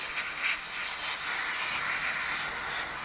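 An airbrush sprays Tamiya grey paint in a light coat onto an Arma Hobby P-51B Mustang model kit, a steady close hiss that keeps going throughout with small surges and no talking.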